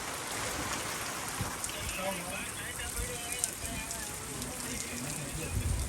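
Steady rain falls in a village, a dense continuous hiss drumming on surfaces close by. Faint voices can be heard under the downpour.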